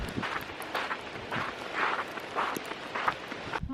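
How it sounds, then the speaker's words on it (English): Footsteps stomping on the ground in the windy, cliff-lined mountains of Gásadalur in the Faroe Islands, a series of regular thuds under steady wind noise, fairly close, with no speech. "And the sounds of my feet stomping on the ground, the echo."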